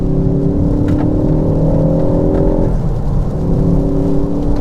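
A tuned 330bhp Mk4 Ford Focus ST pulls out of a wet corner, its engine note droning loud from inside the cabin and climbing steadily before a gear change and a renewed rise.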